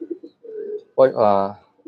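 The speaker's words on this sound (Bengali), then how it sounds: "এই মাদি আশা কবুতর" A female Asha pigeon gives a single close, resonant coo, preceded and followed by faint softer murmurs in a quiet setting.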